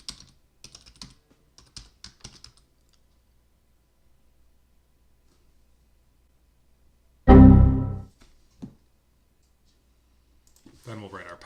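Someone types a password on a computer keyboard, a run of light, quick key clicks close by that gives way to silence and then a short loud burst of noise.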